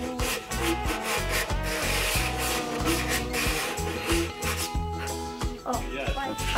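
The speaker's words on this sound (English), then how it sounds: "you did a really nice job sanding" Steady rubbing of sandpaper on a wooden charcuterie board being built with kids, a continuous rasping scrape with rhythmic back-and-forth strokes, close and fairly loud, while people talk in the background.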